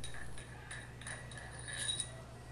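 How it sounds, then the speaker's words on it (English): A hand ratchet fitted with a 13mm socket clicks in short uneven bursts as it tightens bolts on an Emperor Series pump, close and fairly quiet with no voices. "use a ratchet with a 13mm socket to tighten the remaining two bolts"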